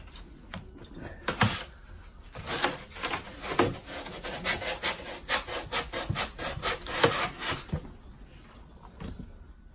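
A hand saw trims a piece of wood for an incubator build in quick, rhythmic back-and-forth rasping strokes, loud and close, with brief pauses before stopping.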